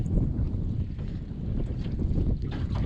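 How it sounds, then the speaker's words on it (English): Wind roars steadily against the microphone on a boat drifting out on open water, a constant loud rumble with no voices. "It is just windy as crap out here."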